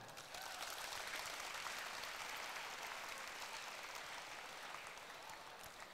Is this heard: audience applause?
yes